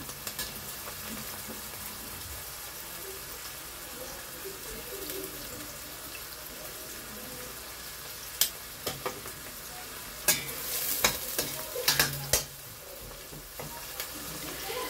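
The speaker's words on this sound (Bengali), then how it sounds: "তো আমি চুলায় এদিক থেকে পেঁয়াজটা দিয়ে দিলাম, পেঁয়াজটা ভাজা হতে থাক" Onion frying in oil in a pan on a stove sizzles steadily at low volume, broken later by several sharp clanks of a utensil against the pan.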